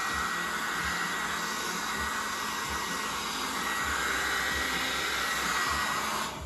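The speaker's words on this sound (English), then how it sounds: "Give it a little bit of a blast with your hairdryer." A hair dryer blows with a steady, close whooshing roar over acrylic paint, running unbroken, then cuts off at the end.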